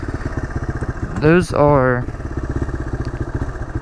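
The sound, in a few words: dirt bike engine idling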